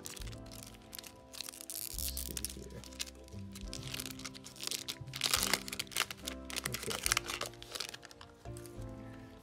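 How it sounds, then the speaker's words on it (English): Yu-Gi-Oh! trading card packs being ripped open, with steady crinkling and tearing of foil wrappers, close and fairly quiet, layered over soft background music. "I'm just gonna spin and rip these cards."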